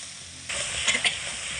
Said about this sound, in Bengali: এবার খুব ভালো করে একসঙ্গে কষিয়ে নেব